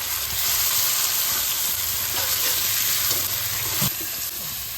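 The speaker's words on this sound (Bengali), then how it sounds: "আদা, রসুন আর লঙ্কা, কাঁচা লঙ্কা বেটে রেখেছি, পেস্টটা এর মধ্যে দিয়ে কষিয়ে নেব" A paste of ginger, garlic and green chilli sizzles and crackles with onions in a pan for a Bengali crab kosha, a loud, steady, close frying hiss with occasional stirring scrapes.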